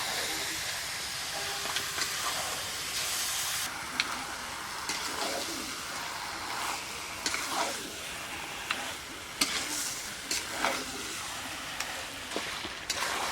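Chicken pieces hit spiced, well-fried masala oil in a pan and sizzle with a steady, close hiss, broken by scattered crackles and pops, with no voices.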